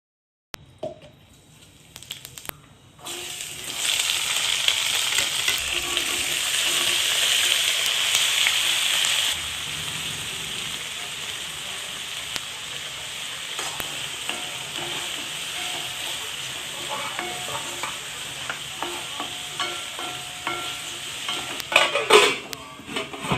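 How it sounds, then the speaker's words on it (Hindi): Loud sizzling and frying of potatoes, carrots and bell peppers tempered with cumin in a pan, with occasional stirring and utensil clinks, intense at first, then settling to a softer sizzle. "आलू गाजर और शिमला मिर्च की सब्ज़ी बना रही हूँ"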